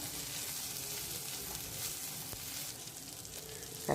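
Washed mint leaves sautéing in oil in a pan for a chutney, giving a steady soft sizzle throughout with a faint clink near the end.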